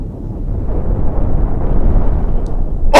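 Missile explosions in the spaceship-building game Cosmoteer, a sustained deep rumbling roar of blasts that swells and stays loud, ending in a sharp crackling burst.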